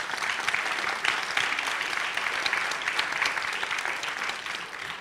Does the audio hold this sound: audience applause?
yes